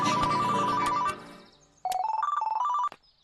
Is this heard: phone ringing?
yes